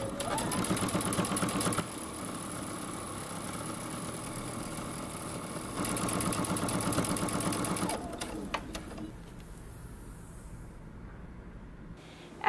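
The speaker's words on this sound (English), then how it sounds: "we're gonna sew close to the edge" A sewing machine runs in steady bursts while stitching close to the edge of folded fabric for a jumper, with a loud continuous whir that pauses briefly around two seconds, then stops near eight seconds, leaving quiet clicks.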